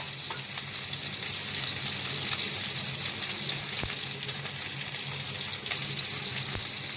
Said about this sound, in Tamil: இப்போ ஆனியன் நல்லா கோல்டன் ஃப்ரை ஆகிற வரைக்கும் வெயிட் பண்ணலாம்